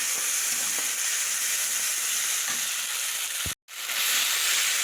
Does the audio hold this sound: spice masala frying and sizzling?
yes